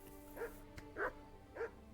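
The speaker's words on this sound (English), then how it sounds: "Apologies for the dog barking." A dog barks three times in quick, even succession, mid-distance and moderately loud, with a soft hum underneath.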